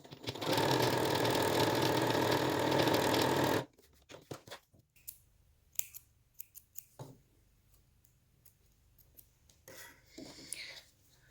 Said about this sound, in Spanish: cortamos los hilos que nos sobran y que nos molestan